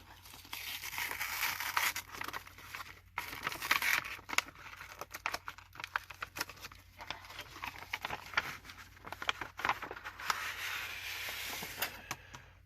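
An envelope tucked inside another envelope being opened, its paper tearing, crinkling and rustling in close, continuous bursts for several seconds with no talking.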